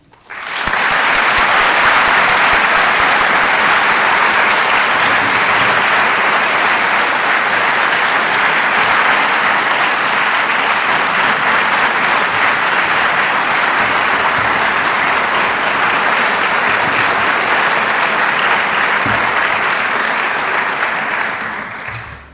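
An audience at an evening talk breaks into sustained applause to welcome speaker Hartmut Grossmann, a dense, even wash of clapping that holds steady for over twenty seconds before fading out.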